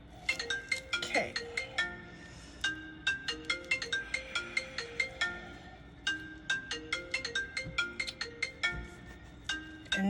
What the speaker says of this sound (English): I don't understand why that phone is still ringing